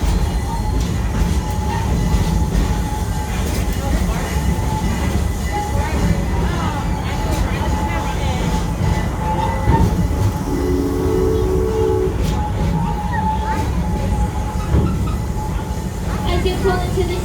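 A safari ride train rolls steadily toward its station, with a continuous rumbling clatter of wheels on track and a low tonal hum, while a recorded announcement voice talks over the movement throughout.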